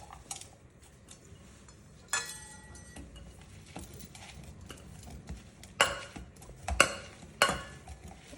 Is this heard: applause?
no